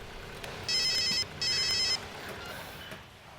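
A telephone rings indoors in two short electronic trilling bursts, moderately loud above a quiet room background.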